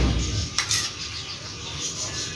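Chicken filling being mixed with mayonnaise in a bowl, with a brief spoon clink against the bowl amid soft, continuous handling noise, close by.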